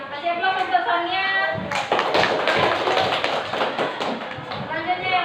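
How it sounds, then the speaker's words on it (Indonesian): A classroom gives a student presenter a round of applause, many hands clapping in a dense burst that starts abruptly and holds steady, with light voices in the room. "kasih aplaus untuk Sonia"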